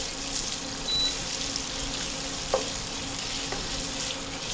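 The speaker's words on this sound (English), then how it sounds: "Now we are going to add 1 medium size of sliced onion," Sliced onion sautéing with spices in a pan while cooking Murgh Mushallam, a steady close sizzle and fry with a couple of brief stirring clicks and no talking.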